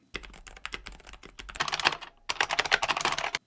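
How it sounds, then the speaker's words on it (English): An older pre-built mechanical keyboard is typed on in fast, uneven bursts of loud clacky keystrokes, heard close up with a short pause partway through. "I tried to type soft for this upcoming sound test."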